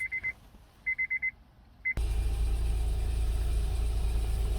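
A few quick electronic beeps sound in bursts, then a Honda Pilot engine starts and settles into a steady, low rumbling idle.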